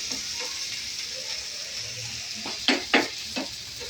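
Onions frying and sizzling steadily in a pan for paneer bhurji, with a low hum underneath and a few sharp clanks of a spoon stirring against the pan near the end; no talking.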